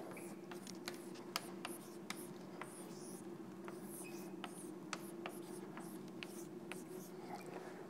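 Chalk or marker scratching on a board during a physics lecture on shock-driven flows, a steady run of short taps and strokes over a quiet room hum, with no voice.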